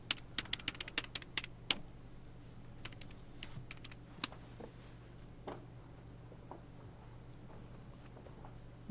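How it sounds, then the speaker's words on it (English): Someone types on a computer keyboard inside the adventure game Broken Sword 2.5, with quick bursts of clicking keys and then sparser taps over a low steady hum. "She's typing something on her keyboard."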